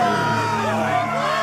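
Arena crowd cheering and whooping in a Game of Thrones video game, a dense, loud roar of many voices yelling together, continuous and close throughout.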